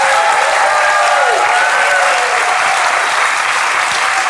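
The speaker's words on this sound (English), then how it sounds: "Give them a large round of applause." A live audience at a podcast recording applauds loudly and steadily, a dense wash of clapping from a big crowd with faint whoops or whistles under it, no speech.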